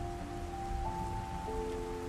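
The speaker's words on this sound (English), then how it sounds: "You pause in your reading to listen to the rain, letting the sound wash over you like a gentle tide." Steady, gentle rain falls as a soft, continuous wash at an even level, with faint sustained tones running beneath it and no voices.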